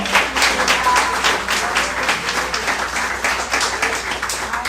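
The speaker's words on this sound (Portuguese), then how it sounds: "Você pode dar uma salva de palmas ao Senhor?" A church congregation applauding during a service, a full sustained round of clapping in a reverberant hall with fluctuating intensity and faint voices underneath.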